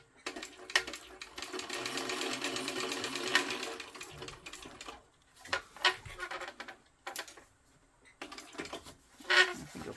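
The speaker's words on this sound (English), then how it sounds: "Okay, now I can do my top stitching." A sewing machine top stitching a crossbody bag, running in a long continuous whir, then in shorter stop-start bursts with pauses between.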